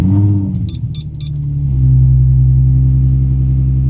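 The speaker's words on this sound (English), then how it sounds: "Yo, that was a good cold start." A car engine cold start on a car with a cracked muffler: a cranking, revving rumble for under two seconds, then a loud, steady low idle drone close by, with no voices.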